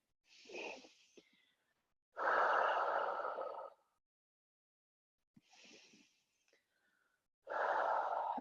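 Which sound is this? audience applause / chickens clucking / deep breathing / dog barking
deep breathing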